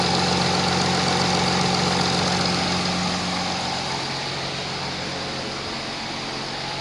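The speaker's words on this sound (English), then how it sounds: "Cooling fan 1 starts spinning. And also cooling fan 2 starts spinning." Cooling fans of an Audi A6 C8 running with the car idling, a continuous loud whirring drone with a faint tonal hum that eases slightly toward the end, and no speech.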